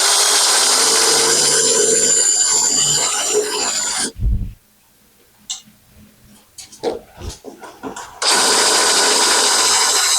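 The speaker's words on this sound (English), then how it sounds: "I'm going to drill and tap and put this clamp in here." A power drill with a number 7 bit bores a tap hole in a 1976 Jeep CJ-5 frame, whining loudly and steadily, cutting out for a few seconds of scattered knocks, then resuming at full speed.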